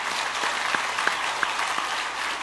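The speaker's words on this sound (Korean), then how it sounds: "우리 선교사님과 새 가정을 위해서 박수로 환영하며 축복하겠습니다" A church congregation claps to welcome a missionary during a Sunday service, a dense, steady wash of applause from a large crowd filling the room for a couple of seconds.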